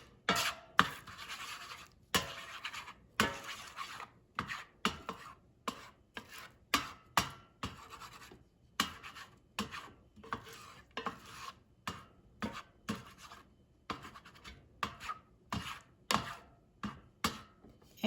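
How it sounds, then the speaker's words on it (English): A utensil scrapes and rasps against an air fryer basket, breaking up and scrambling eggs in repeated short strokes with small pauses, close by and fairly quiet. "So now I'm just going to break them up and scramble them."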